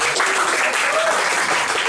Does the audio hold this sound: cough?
no